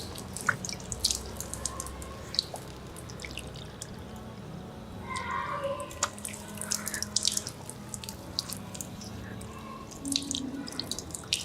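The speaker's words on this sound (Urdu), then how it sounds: "ایسے چلوں میں پانی لیں گے دونوں ہاتھوں سے، اور آہستہ سے یہ ہاتھ پورے چہرے پر پھیریں گے" Water running from a tap and splashing as cupped hands carry it to the face during wudu ablution, with steady trickling, drips and soft splashes at close range and no talking.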